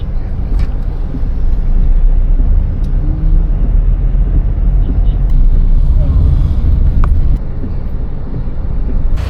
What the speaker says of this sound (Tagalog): Traffic sa syudad.